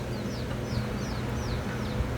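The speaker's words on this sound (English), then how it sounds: "Place is lousy with chickens." Free-roaming chickens near the Little White House in Key West, Florida, give a steady run of short, rising calls every half second or so, moderately distant over a constant low outdoor rumble, with no talking.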